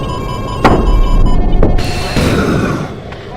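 In the flight game VTOL VR, an aircraft blows apart in a few sharp booms over a rumbling, noisy background, loud and close, with the roar fading toward the end.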